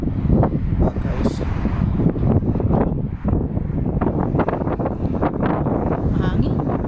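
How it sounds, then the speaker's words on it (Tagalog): Strong wind buffets the microphone outside a house being wrapped, a loud continuous rumbling roar with gusty surges and rustling throughout. "Hangin."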